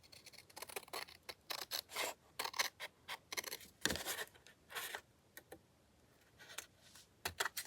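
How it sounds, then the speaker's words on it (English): Scissors snip the flaps off a folded piece of paper in a quick, irregular series of crisp, close cuts and rustles, quiet and with no talking. "we're going to cut off the two flaps on either side of this"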